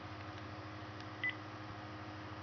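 A single short telephone dialing tone beeps once amid a quiet, faintly humming room.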